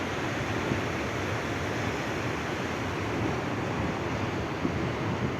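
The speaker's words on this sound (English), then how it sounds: "It's awesome to sleep with the sound of the waves." Ocean surf rolls steadily at night on an Australian coast, a constant broadband wash of waves with light wind noise, heard close and alone without voices.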